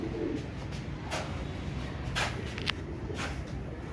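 Imam Deen pigeons cooing softly, a few low murmuring coos and faint wingy rustles over a steady background hum, with light shuffling and no speech.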